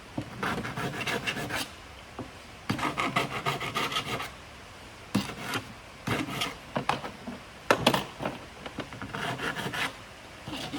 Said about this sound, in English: Once we get these all filed up, I'll get them on the piston